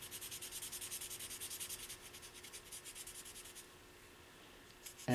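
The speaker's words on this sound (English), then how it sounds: "take the Sharpie marker and color" A Sharpie marker colors the flutes of a drill bit during a snowmobile install, making close, rapid, rhythmic scratchy rubbing strokes that slow and fade near the end before a short clunk.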